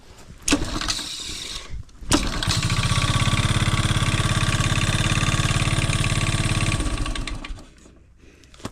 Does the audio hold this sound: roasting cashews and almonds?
no